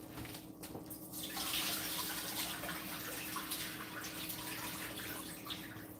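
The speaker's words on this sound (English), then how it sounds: "So we're gonna throw the water away." Cloudy rice-rinsing water is poured away into a sink, a steady close splashing stream with light gurgles that runs unbroken for several seconds.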